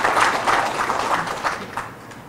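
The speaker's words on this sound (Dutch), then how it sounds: "daarom vraag ik ook een applaus voor het ministerie van" Audience applause follows a call to thank a ministry, a fairly soft, even spread of clapping that lasts a couple of seconds and fades toward the end, with no clear voices over it.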